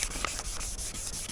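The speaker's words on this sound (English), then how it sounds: "Just gotta keep sanding your way." Sandpaper rubs steadily across a plastic car headlight lens during a cheap at-home restoration, a quiet, even scratchy hiss with faint rhythmic strokes and no talking.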